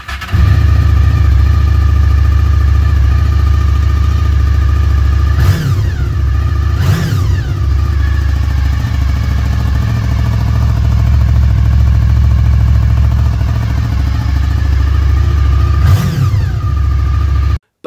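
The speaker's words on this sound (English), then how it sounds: "When I got the VFR, it was great, running smoothly and having that lovely V4 note." A high-mileage Honda VFR800 motorcycle's V4 engine runs close and loud with a steady, throbbing idle, broken by three quick throttle blips that rise and fall in pitch before the sound cuts off.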